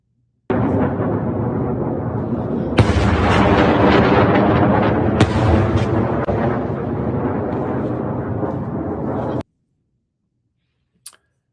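Ansarallah missile launches aimed toward Saudi Arabia roar as a loud, broad blast of rushing noise lasting about nine seconds, with sharp cracks within it, before cutting abruptly to silence and a single faint click.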